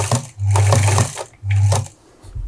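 Sewing machine stitching a fabric scrunchie in a back-and-forth backstitch: two sustained bursts of motor hum and needle chatter separated by short pauses, close and clear with no talking.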